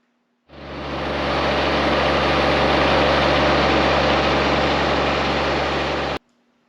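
A John Deere X758 lawn tractor engine runs steadily and loudly nearby, a constant droning hum that starts abruptly and cuts off cleanly after about six seconds.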